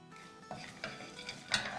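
Desiccated coconut and dried red chillies sautéing in a pan, gentle sizzle with soft stirring scrapes and light knocks, close and quiet, no voices.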